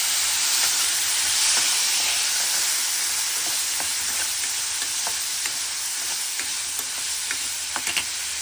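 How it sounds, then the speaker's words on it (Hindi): Peas roasting in a pan with cashews for homemade tikki give a steady close sizzle and hiss, with scattered light stirring clicks throughout, and no voices. "मटर को भी थोड़ा सा भून लेते हैं।"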